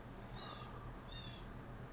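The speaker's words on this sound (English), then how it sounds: "Big bird outside the window." A large bird calls outside a window at night, two short hoarse hooting notes sounding at a distance over steady low background hum.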